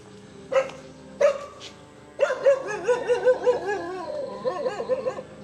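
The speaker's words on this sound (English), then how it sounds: "Oh, it's a mean dog. It's a mean looking dog." A mean-looking dog barks outdoors near hidden springs in the Philippines, two separate loud barks followed by a rapid run of repeated barking and yips that trails off into softer woofs.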